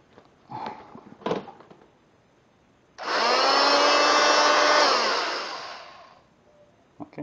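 An oscillating multifunction power tool starts up during a dry test with no workpiece, giving a loud steady buzzing whine for about three seconds before spinning down. A few handling knocks come before and after.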